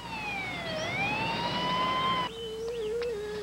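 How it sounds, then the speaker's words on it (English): A St. John's ambulance siren wails, sweeping up and down, loud and steady, then shifts to a different yelping pattern partway through. "A St. John's ambulance was immediately dispatched."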